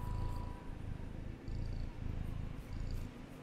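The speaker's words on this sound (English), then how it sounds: "You're a sweet kitty, huh?" A house cat purrs close up, a steady low rumble pulsing in an even rhythm, with no talking.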